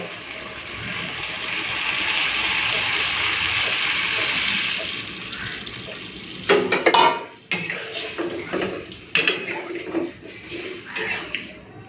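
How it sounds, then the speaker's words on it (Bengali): Water poured into a pot of mashed red lentils in a kitchen, starting as a continuous rushing pour for about six seconds, followed by sharp clatters and knocks of the pot and utensils. "তো এখন দিয়ে দিচ্ছি জল।"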